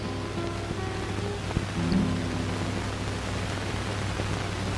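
Steady rain falling outside, a continuous soft hiss with a low rumbling undertone and one faint knock partway through, with no voices.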